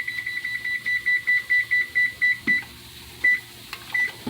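A kitchen oven gives a run of short, evenly spaced electronic beeps as it is set to preheat for cornbread, about ten quick tones followed by a couple of isolated beeps, loud and close.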